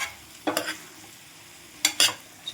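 Chicken being stirred with garam masala in a hot pan: two separate bursts of scraping and sizzling, close and fairly loud, with quiet gaps in between and a brief third stir starting at the end.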